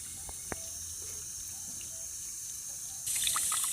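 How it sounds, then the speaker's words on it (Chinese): Water runs in a steady trickle while a black-furred puppy gets rinsed during its bath, a constant soft splashing that grows louder and brighter near the end, with a couple of faint clicks early on. "好了，冲水了啊！"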